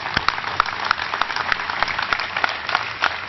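A crowd applauds the Cherokee Nation at a State of the Nation address, with steady, dense clapping from a large audience throughout and no talk.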